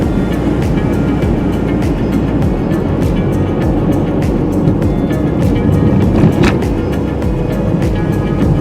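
A car driving across a famous bridge along the Big Sur marathon route, a loud steady road and engine rumble with wind noise and repeated light thumps from the road surface.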